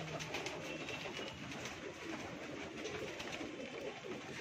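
Pet pigeons at a home in Mumbai coo faintly at night. The low, steady murmur runs continuously under a broad background noise, with no talk.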